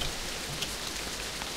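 Rain patters steadily in the video game Castle Meister, a soft continuous hiss with a few faint distinct drops, no voices over it.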